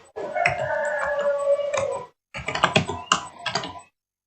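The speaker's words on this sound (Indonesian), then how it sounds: "Ketik." Rapid, close keystrokes clatter on a computer keyboard while entering an Excel formula, in two bursts separated by a short pause, with no talking.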